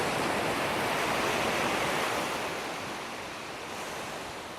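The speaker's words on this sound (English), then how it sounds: "like the sound of the waves behind me." Ocean waves wash steadily behind an outdoor yoga class, a broad continuous surf roar that swells slightly and then eases, close and loud with no one speaking over it.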